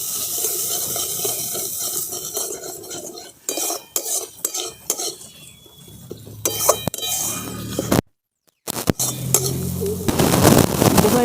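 Spoon stirring a ground poppy seed and cashew paste into spices in a pan for a fish roe curry, with scraping clinks against the metal and a faint sizzle of oil, broken by a brief silence near the end.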